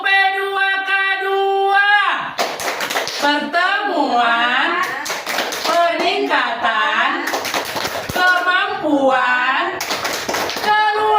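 A group of women performs the P2K2 clap chant at a family-skills meeting: brisk rhythmic hand claps under a loud sung-spoken call, opening with a sustained voiced line before the clapping kicks in.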